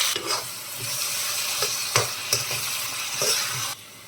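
Chopped onions dropped into hot oil with mustard seeds, cumin and a little urad dal for a Telugu bitter gourd tomato curry, a steady loud sizzle with stirring scrapes and clinks, close by and without talk, ending abruptly.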